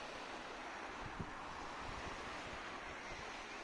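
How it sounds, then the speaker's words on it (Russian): Sea surf and wind on a wild beach on Crimea's southern coast between Rybachye and Morskoye, heard from a clifftop. A steady, rushing wash of waves mixes with buffeting wind noise on the microphone, with no voices. "Вот море."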